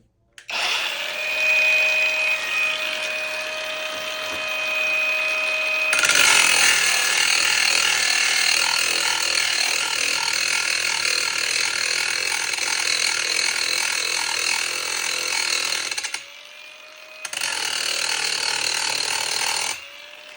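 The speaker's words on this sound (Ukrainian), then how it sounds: "Встановив зачисний диск та зараз пошліфую ось такий шматок металу на мінімальних обертах." An Einhell cordless angle grinder with a grinding disc working a piece of metal at low speed: a steady loud whine spinning up, then a harsh continuous grinding rasp lasting many seconds, a brief pause, and another grinding pass.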